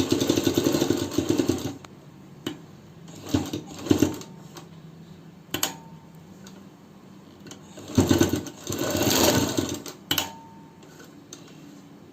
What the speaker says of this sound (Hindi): अब इसको पूरा यहाँ से राउंड में स्टिच करना है।